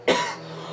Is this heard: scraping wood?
no